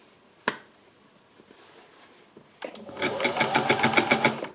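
An embellisher machine stitching into fabric: a sharp click, a quiet pause, then a fast, steady mechanical chatter of needles punching at close range, growing louder toward the end, with no talk.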